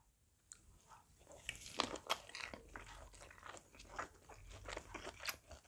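Biting and chewing a plump kielbasa sausage eaten plain without sauce, close and quiet, with a series of crisp snapping crunches from the casing followed by wet mastication sounds, no talking.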